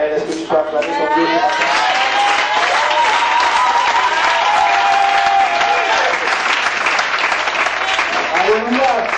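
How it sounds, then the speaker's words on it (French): A church congregation in Abidjan applauds and cheers loudly and continuously, a dense wall of clapping with shouting voices throughout. "Est-ce que tu peux acclamer ton Dieu?"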